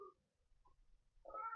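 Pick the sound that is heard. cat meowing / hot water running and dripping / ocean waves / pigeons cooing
cat meowing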